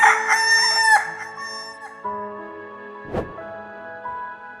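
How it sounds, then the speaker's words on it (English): A rooster crows loudly once, a long ringing call that trails off, followed by a quieter tonal sound and a short thump. "Rooster!"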